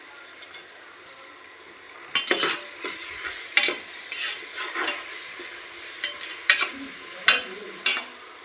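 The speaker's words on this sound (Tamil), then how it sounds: "இப்போ நல்லா வதங்கட்டும்." Food sautéing in a pan with salt for coconut rice, with a soft continuous sizzle and repeated clinks and scrapes of a stirring utensil against the pan in irregular bursts.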